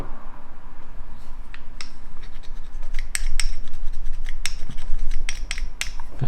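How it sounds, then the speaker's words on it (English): Polishing sticks rubbing plastic parts of a 1/35 scale Object 279 tank model kit, giving close, dry scratchy strokes and light clicks in an irregular rhythm with no talk. "It's supposed to be really good for polishing plastic. And it does indeed seem to do it."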